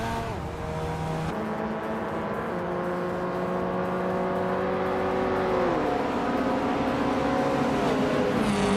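A 1985 Lancia Delta S4 Stradale race car in a racing video game drones steadily and loudly throughout, its engine pitch holding level and then dropping partway as it shifts, with no talk.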